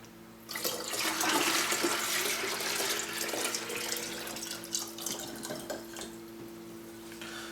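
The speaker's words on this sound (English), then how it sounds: "And we will discard this water." Water is poured out and discarded, rushing and splashing steadily down a drain for several seconds after a quiet start, then thinning into trickles and drips toward the end.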